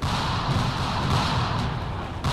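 Cannon fire in the space combat game Space Engineers, a dense continuous roar of booming blasts and rumble filling the whole stretch at high volume, with no clear gaps between shots.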